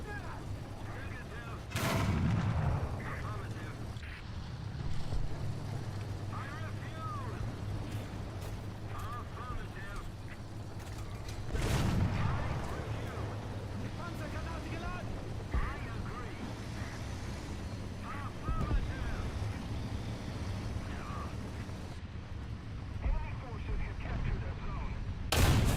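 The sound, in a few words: tank cannon firing in War Thunder video game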